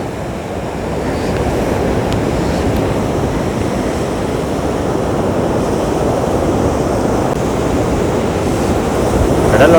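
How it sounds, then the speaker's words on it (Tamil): Sea waves roll and break continuously along a shore, a loud, steady wash of surf with wind buffeting the microphone throughout and no voices. "கடலோட அலையை பார்க்கறதுக்கே ரொம்ப அழகாக அவ்வளோ அற்புதமாக இருக்குது"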